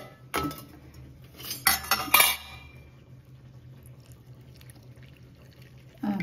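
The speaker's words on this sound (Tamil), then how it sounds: "கொஞ்சம் நம்ம பால் ஊற்றிக்கலாம்." Milk poured into a bowl while making tomato pasta at home, heard as close, brief clinks of cutlery and dishes with a short pouring splash, then a quieter kitchen.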